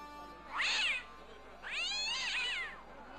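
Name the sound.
angry cat meowing in video game Broken Sword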